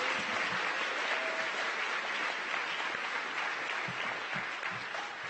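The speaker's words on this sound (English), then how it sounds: "How about a big round of applause?" A crowd at a new student orientation event applauds. The clapping is loud, dense and steady for about five seconds, with a few louder claps close by toward the end.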